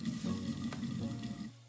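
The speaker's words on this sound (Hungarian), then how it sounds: "közben itt már forr nekünk a lila káposzta." A pot of red cabbage bubbles and simmers steadily nearby, a soft continuous churning with faint hiss, no voices.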